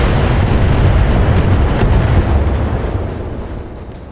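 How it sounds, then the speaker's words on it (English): A mech in Battletech unleashing a full weapons salvo, a loud sustained roar of overlapping blasts and rumbling explosions that gradually fades toward the end. "Firing a full salvo."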